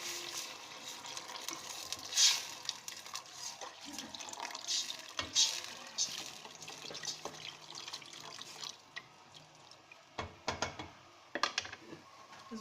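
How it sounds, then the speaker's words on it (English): Water goes into a pan of frying stuffed calamari with bay leaves and thyme, giving faint splashing and bursts of sizzle, intermittent hissing crackles and a few sharp clinks over a quiet background, with no talk. "now I'm just going to add in my water"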